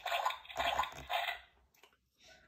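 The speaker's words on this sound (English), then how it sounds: "Daddy jumps in a great big puddle." Several watery splashes in quick succession as someone jumps into a big puddle, close and fairly soft, followed by a couple of smaller sloshes.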